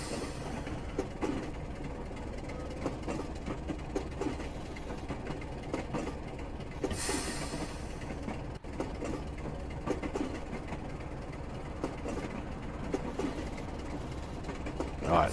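Class 27 diesel locomotive in Train Simulator Classic running steadily downhill, a continuous low engine drone with rail rumble and faint wheel clicks throughout, fairly even in level.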